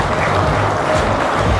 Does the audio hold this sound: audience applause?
yes